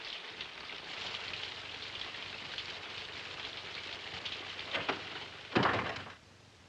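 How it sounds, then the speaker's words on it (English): Steady rain hisses down outdoors in a 1950 Western, a constant soft wash of falling water with a couple of heavier thuds near the end, no voices. "You don't mean to ride in this rain."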